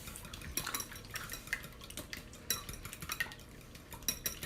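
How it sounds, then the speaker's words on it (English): Eggs whisked in a bowl for pumpkin bread batter, giving quick, uneven clinks and scrapes of metal against the bowl, fairly close and continuous with no talking. "So I'm whisking the eggs first."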